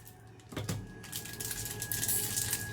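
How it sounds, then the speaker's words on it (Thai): A chocolate bar is broken by hand into a cup while making a chocolate lava cake for an air fryer. A couple of crisp, close snaps come early, followed by quieter handling noise. "หักใส่ถ้วยเลยครับ"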